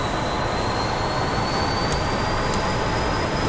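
F-14 Tomcat jet engine spooling up in the DCS flight simulator game, a loud steady broadband roar with a sustained high whine, continuous throughout without speech.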